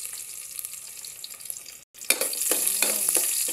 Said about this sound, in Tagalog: Siyempre, igisa muna natin ang ating luya.